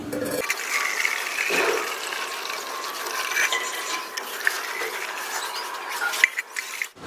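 Water sloshing and splashing as liquid fertilizer is stirred into water with a lota, a steady churning wash with scattered clinks and small splashes, close and continuous throughout.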